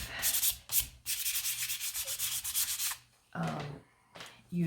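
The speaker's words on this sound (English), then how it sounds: "So let's go ahead and sand." Sandpaper rubbed by hand over a small wooden gnome figure: close, raspy scratching strokes in a quick, fairly regular back-and-forth rhythm, pausing briefly before a few final strokes, with no talking.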